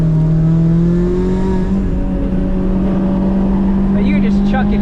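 A supercharged Mazda ND Miata drives hard on a race track with its rear sliding loose, its engine a loud, constant close-up drone with faint higher squeals toward the end.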